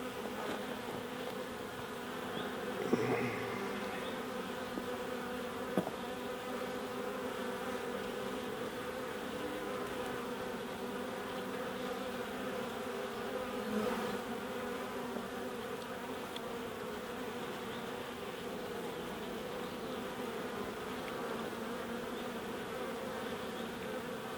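Honey bees buzz steadily around an open, vandalised hive in the UK during an inspection, a dense continuous drone with a few brief louder passes close by and no talking.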